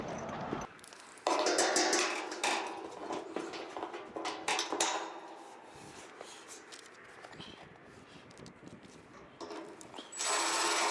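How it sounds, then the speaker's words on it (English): A power drill pre-drills holes in wood while walls are being built, giving long whirring, grinding bursts close by, broken by short pauses and a few knocks, with no talking. "So you don't have to pre-drill, but I'm pre-drilling some of the holes."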